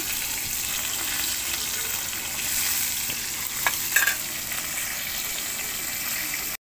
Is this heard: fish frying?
yes